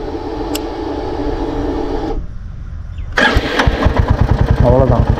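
A Royal Enfield Meteor 350 motorcycle engine cranks and catches at about three seconds in, settling into a loud, close, steady thumping idle after a short lull.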